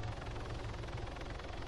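Helicopter in the video game ArmA, a dense, steady rotor roar filling the brief moment, close and continuous with no talking.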